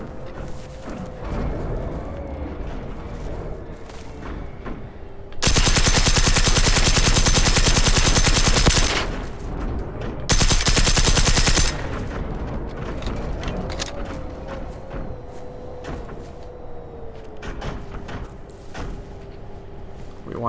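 Gunfire in the Generation Zero video game: two long, loud bursts of sustained rapid shooting break over a low droning background, the first lasting several seconds and the second shorter.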